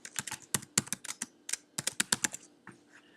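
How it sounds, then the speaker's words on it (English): Rapid typing on a computer keyboard, a close run of crisp individual key clicks in uneven bursts with short pauses, alone without talk. "I can start typing."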